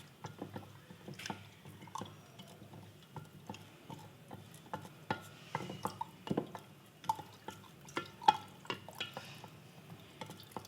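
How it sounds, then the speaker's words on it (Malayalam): Wooden spoon stirring a homemade beetroot wine mixture in a container, giving a steady run of soft knocks, taps and liquid drips at close range, with no talking. "മരത്തവി ഉപയോഗിച്ച് നല്ലപോലെ മിക്സ് ചെയ്ത് കൊടുക്കാം."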